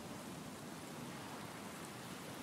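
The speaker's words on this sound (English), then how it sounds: "It's just a little bit of rain from a big cloud." Steady rain from a large cloud in Stranded Deep, a dense uniform hiss of falling drops with no breaks and no voices.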